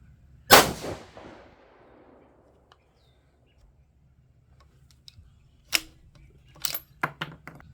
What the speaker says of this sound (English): very first shot with the Seekins Havak Hit